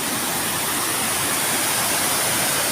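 Cilongan River flowing near a dam in West Java, a dense, constant broadband rush of water, loud and steady with no break and no voices.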